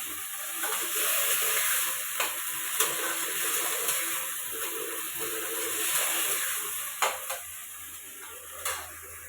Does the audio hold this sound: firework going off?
no